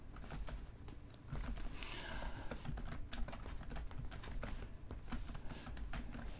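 Typing on a computer keyboard, a steady run of quick light key clicks throughout, fairly close and alone with no talk.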